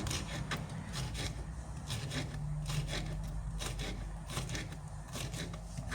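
A knife slices a bell pepper on a cutting board in a home kitchen, giving quick repeated chopping taps and scraping strokes at close range, with no talk.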